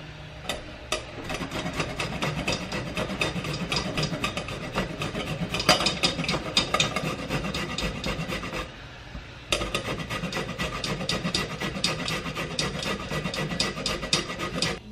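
A carrot rubbed against a grater, a steady rasping scrape repeated in quick strokes close by for most of the stretch, with a short pause before it resumes; no voices.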